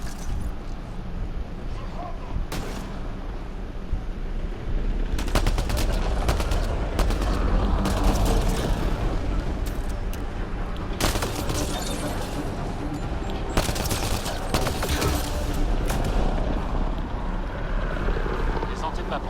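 Gunfire in the video game Mass Effect Andromeda: dense bursts of weapon shots over a steady loud roar of engine-like game ambience, with people speaking over the action.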